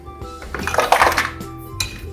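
Ice is scooped from an ice machine for a homemade rainbow snow cone, producing a close, brief burst of clattering, clinking ice against the scoop and container.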